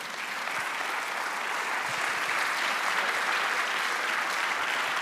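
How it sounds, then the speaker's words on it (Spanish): A church congregation applauds during a sermon, producing a thick, even roar of many hands clapping at once, steady and unbroken from start to finish. "Dale otro aplauso al Señor."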